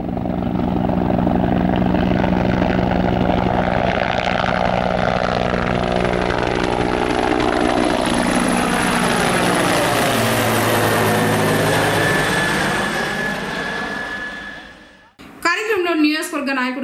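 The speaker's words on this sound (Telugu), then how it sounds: "హెలికాప్టర్ కూడా ట్రయల్ రన్ వేసింది." A helicopter on a trial run passes loudly overhead, a steady whirring engine roar with a slowly shifting pitch that fades after about fifteen seconds, followed by brief talk.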